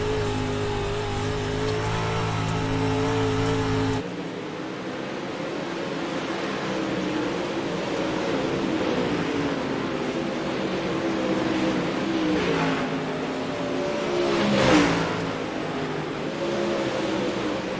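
A dirt track race car engine at a Wednesday dirt-oval event, revving and accelerating through its gears, a steady mid-distance drone that rises and falls with a sharper surge near the end.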